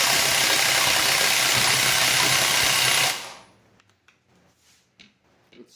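A Snap-on 18V cordless impact wrench runs a bolt down in one loud, dense, continuous burst of hammering for about three seconds, then stops abruptly, leaving quiet faint handling clicks.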